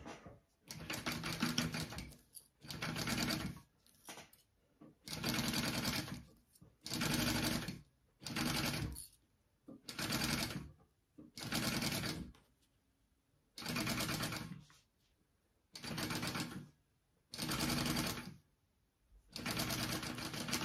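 Domestic sewing machine basting a zipper along an exterior zipper panel of a fabric tag-along bag, running in about ten short bursts of one to two seconds separated by brief pauses, close and clear with no talk.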